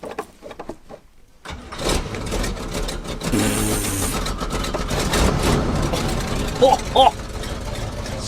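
A big block Chevy engine in an abandoned camper cranks, catches and settles into a loud, rough idle close by, its low rumble running continuously while a voice briefly speaks over it.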